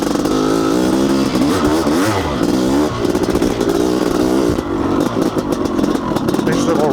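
Honda CR500 two-stroke dirt bike ridden hard on rocky single-track trail, its engine roaring and revving up and down continuously close by, with clatter from the terrain and a rider's voice mixed in.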